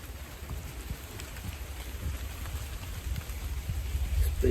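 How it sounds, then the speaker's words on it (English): Steady rain falls around a camping spot at night, a continuous soft patter and hiss close by with low rumbling beneath, slowly growing a little louder toward the end. "It'll be just the rain anyway."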